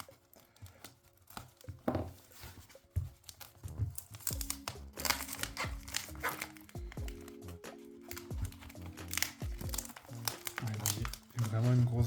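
A trading card shipping package sealed with tape is worked open, with close crinkling and tearing of plastic and paper, irregular bursts of rustling and scratching, while someone speaks French over it.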